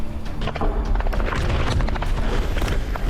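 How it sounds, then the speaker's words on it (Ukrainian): Grenade blasts and combat noise sound during close-range fighting, with dense, rumbling booms and thuds packed into a loud, continuous burst of chaotic sound. "Граната!"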